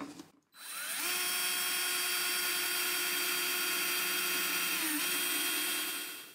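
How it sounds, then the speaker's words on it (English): A power drill whines up to speed and holds a steady high-pitched drone for several seconds, pitch dipping slightly as it bores through the wooden tail block of a 1950 Silvertone archtop guitar, then winds down. "go all the way through till I know that the drill has gotten through the entire tail"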